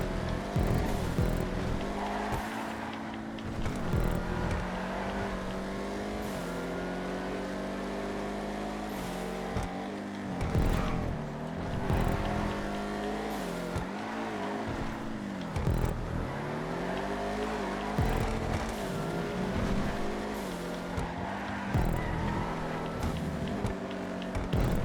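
Vigero muscle cars race hard through a lap of GTA 5, engines droning and revving with rising and falling pitch, tires squealing in bursts, loud and continuous throughout.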